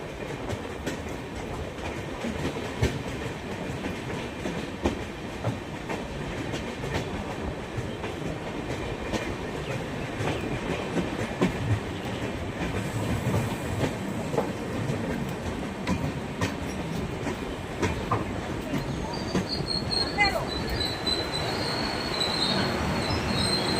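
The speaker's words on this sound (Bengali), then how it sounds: "একমাত্র ট্রেন স্টপ করে গেল জলপাইগুড়ি রোড" The Brahmaputra Mail express train rolls into Jalpaiguri Road station in West Bengal and brakes to a stop. A continuous heavy rumble carries intermittent wheel clatter, with shrill wheel squeal rising near the end.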